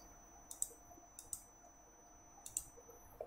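Computer mouse clicks while working in PCB layout software: three quiet, sharp clicks spaced about a second apart, each close and isolated against faint background hiss.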